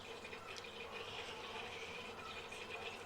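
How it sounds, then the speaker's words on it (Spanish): An aquarium cascade filter runs at maximum flow, giving a steady, faint rush of splashing water that stays even throughout with no talk. "Ya está el filtro de cascada también al caudal máximo."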